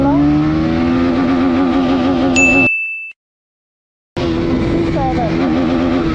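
Bajaj Pulsar NS200 motorcycle accelerating through first and second gear, engine pitch rising in loud steady sweeps, cut by a sudden gap of silence before the revving resumes, with someone talking over it.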